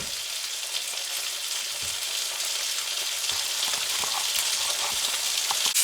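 A steak sizzles loudly in a hot pan during a log cabin cook, a dense, steady hiss of frying fat with scattered pops and crackles running throughout, close and uninterrupted, with no talking.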